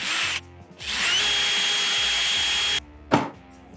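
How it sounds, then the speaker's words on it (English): A hand drill bores into a garden tool handle, its steady loud whine running for nearly two seconds after a short first burst, then a brief scrape as the bit pulls free. "So I'm just going to drill it by hand"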